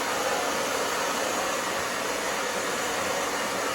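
A hair dryer blows hair the opposite way at the roots during a pixie haircut on coarse hair, a loud, steady, close rushing whoosh that runs unbroken with no talking.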